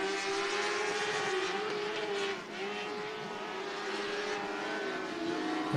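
Several race cars in a heat race at Cottage Grove Speedway, a dirt oval in Cottage Grove, Oregon, roar steadily at full throttle, engines droning loud and continuous with a brief dip and rising revs as they pass.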